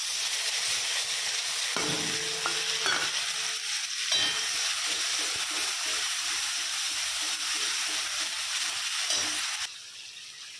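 Spices with nigella seeds, cumin, chili, Kashmiri chili powder, turmeric and a little tomato fry in oil, giving a steady close sizzle with a few scraping stirs early on before it drops quieter near the end, no talk.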